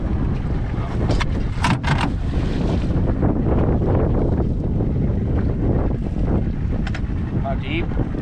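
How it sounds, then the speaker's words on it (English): Steady wind roars across the microphone on a small fishing boat out on the water during a fishing derby near Quincy, Washington, with a loud continuous rush, a few brief high chirps, and faint voices in the background. "The wind did pick up."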